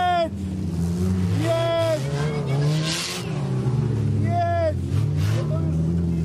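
Video game race cars on the final lap, engines droning and revving steadily with rising whine sweeps as cars pass, loud and continuous under excited talk from a player.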